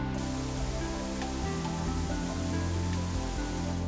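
Bering Falls in Glacier National Park pours steadily, a continuous broadband rush of falling water heard close and fairly loud, with a faint tonal hum underneath and no talk.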